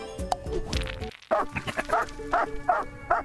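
A chubby dog in the Par for the Dungeon mini-golf puzzle game barks and yips in quick bursts, with short whimpers and game jingles around the yelps.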